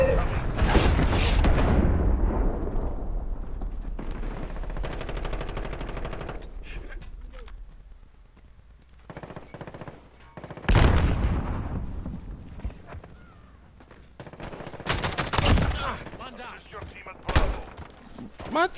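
Gunfire sounds out during online Modern Warfare gameplay. Loud bursts of automatic fire and single shots come in several separate volleys, with quieter mechanical game sounds between them.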